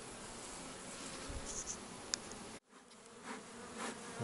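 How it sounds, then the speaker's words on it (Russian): Bees buzzing around in the taiga, a steady close insect hum with individual bees passing near, briefly dropping away before the drone resumes. "Пчелы слегка атакуют."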